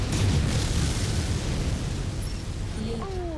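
Missile barrage explosions in the video game MechWarrior 5, a dense rumble of booming blasts rolling continuously, loud and close throughout.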